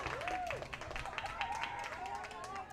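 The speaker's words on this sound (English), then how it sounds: "Crowd whipped up into a frenzy here at Starion." A baseball crowd at Starion cheers and claps during a Post 400 Stars versus Moorhead game, a steady roar of voices and scattered applause filling the stadium under a commentator's play-by-play.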